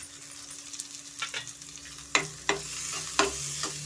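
Onion with green chilli and ginger frying over a medium flame for a vegetable masala bread roast, a soft steady sizzle broken by a few sharp stirring scrapes, close and alone.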